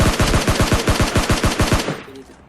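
Rapid bursts of automatic gunfire from the PUBG Lite battle royale game, loud and close, firing in a steady rhythmic stream for about two seconds before cutting off into a brief tail.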